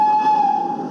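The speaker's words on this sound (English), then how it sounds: "It's the express train for these two." An express train sounds a steady, piercing whistle tone held throughout over a low rumbling of the railway, loud and fairly close with no voices.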